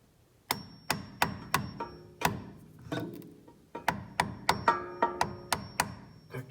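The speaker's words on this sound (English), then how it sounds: "I might just take my hammer and tap it in a little bit" A hammer taps a steering tie rod into place on a 2002 Acura TL-S, giving a series of sharp metallic knocks, first spaced out and then a quicker run of blows, close and clear.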